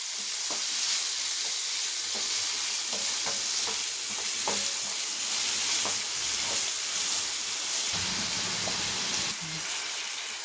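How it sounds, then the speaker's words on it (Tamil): Onions frying in a pan as the base for a restaurant-style crab fry, a steady loud sizzle and hiss throughout with occasional spoon taps and stirring scrapes. "நம்ம வெங்காயம் சேர்த்துக்கலாம். வெங்காயம் நல்லா ஃப்ரை ஆகணும்."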